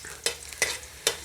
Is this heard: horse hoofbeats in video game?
no